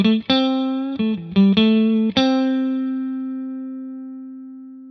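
An electric guitar plays a few quick distorted notes, then one note is left ringing, sustaining and slowly fading over several seconds without resolving.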